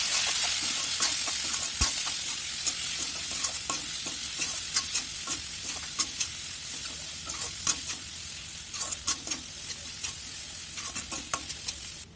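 Pointed gourd curry seasoned with salt, turmeric and chili powder frying in a pan, with a continuous bright sizzle and repeated scraping stirs from a spoon, each stir ringing out sharply over the frying noise; no voices.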